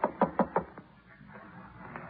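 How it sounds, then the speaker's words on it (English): Four quick raps on a door sound close and crisp, followed by a fifth softer knock and then a quiet room tone. "Go ahead and knock."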